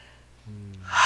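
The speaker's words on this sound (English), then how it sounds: "Nice deep breath." A single deep breath taken during a relaxation exercise: a quiet, low start, then a steadier intake, swelling into a loud, close, airy rush at the end, with no talk over it.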